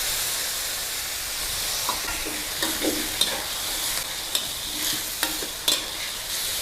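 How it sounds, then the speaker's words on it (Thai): Fatty pork with lemongrass stir-fried in a pan with a splash of water, a steady close sizzle and hiss broken by occasional scraping strokes of the spatula, with no talking. "ผัดค่ะ เติมน้ำล้างโครกสักเล็กน้อยเพื่อให้ผัดง่ายขึ้น"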